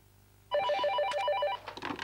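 Telephone in a French TV advert ringing with a bright trilling electronic bell, loud and close, starting abruptly and repeating for about a second before a short pause.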